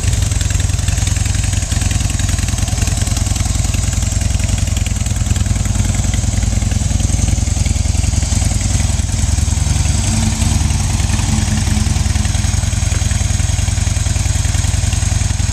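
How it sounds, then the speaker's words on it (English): A 2009 Harley-Davidson FXDL Dyna Low Rider idles steadily for about fifteen seconds, a loud, close, continuous low rumble with an even throbbing beat and no voices. "2009 Dyna Low Rider."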